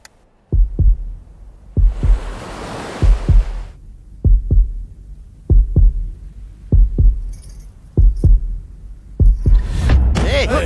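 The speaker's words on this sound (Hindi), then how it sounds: "मेरा दिल और तेजी से धड़कने लगा।" Fast, heavy heartbeat sound effect from a Hindi-dubbed film: loud paired thumps repeating at a quick steady rhythm, with a brief rushing swell early on and a tonal whoosh rising near the end.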